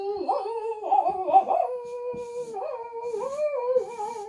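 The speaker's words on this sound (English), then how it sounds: "never get to hear a puppy dog singing" A puppy howls and sings in wavering, high-pitched tones that rise and fall in long sustained cries. The sound is close and loud, with no talking.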